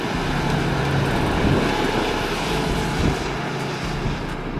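A Hummer H3 with a 3.5-liter petrol engine accelerates steadily: a loud, continuous engine roar holds close and even for a few seconds, with no speech over it.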